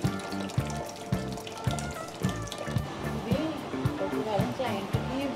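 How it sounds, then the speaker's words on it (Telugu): Water flows and churns continuously in a pedicure spa tub machine at a men's salon in Ravulapalem, a steady gurgle running under a voice speaking nearby. "ఇక్కడ మిషన్ ఆన్ చేశారండి. భలే కలర్ఫుల్గా లైట్లు వాటర్ అయితే ఫ్లోయింగ్ అవుతుంది"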